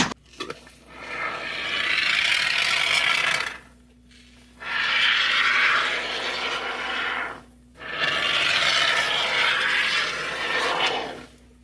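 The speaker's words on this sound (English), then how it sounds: "I'm just gonna spray the crap out of it, including all the corners here" Great Stuff Pestblock expanding foam hisses out of the can in three long bursts, sprayed into holes and corners around a house, each steady spray separated by brief pauses.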